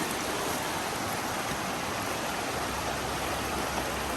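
River water flowing in a constant, dense rush, loud and close and unchanging throughout, with no voices.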